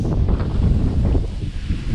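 Strong gusts on the summit of Blood Mountain buffet the microphone with a low, rumbling roar that surges and eases over a couple of seconds, no voices heard.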